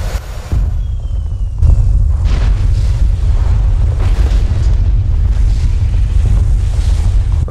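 Heavy rumbling of something big in the Borderlands 2 video game, a deep low roar that surges in after a quieter start and keeps churning loudly and steadily, like a distant eruption or massive machinery.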